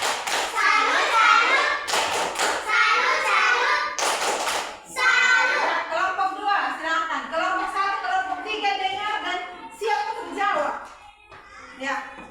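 A classroom of children does a rhythmic group clapping chant, bursts of claps mixed with loud young voices calling out together, energetic and close throughout.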